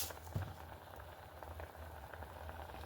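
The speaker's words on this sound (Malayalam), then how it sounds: "ഫിഷ് കട്ട്ലേറ്റിനുള്ള ഫിഷ് ഞാൻ ബോയിൽ ചെയ്യാനായിട്ട് വെച്ചേക്കാണ് ഒരു പാനിൽ" Fish simmering in a pan of water with turmeric and salt, a soft, steady bubbling close by with faint pops, quiet and uninterrupted with no talking.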